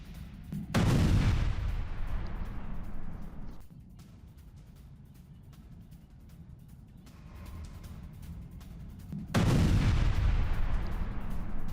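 A missile attack on an Israeli convoy in Kafr Kila, Lebanon: two heavy, sustained roaring blasts of explosion and rumble, with a lower, steady rumbling stretch between them, loud and close.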